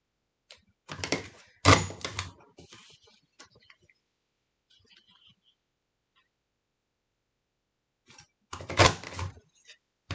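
A Creative Memories teardrop lattice border punch crunches through paper in two clusters of sharp, close clicks and snaps, the first around two seconds in and the second near the end, separated by near silence.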